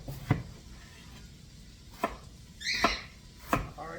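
Scrubbed, unpeeled potatoes are diced with a knife on a cutting board, producing four sharp, separate chops spaced about a second apart, close and crisp with quiet pauses between.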